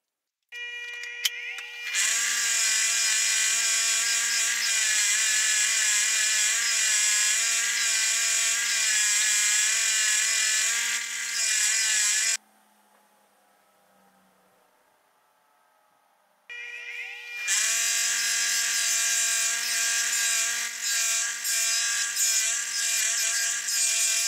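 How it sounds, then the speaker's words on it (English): A brass wire wheel is used to clean the wishbone hardware of an antique mezzaluna food chopper. It gives a loud, steady, whining spin with a brushing hiss, drops away for a few seconds, then starts again, all close by. "we're over here at the brass wire wheel. We're just going to clean up the wishbone."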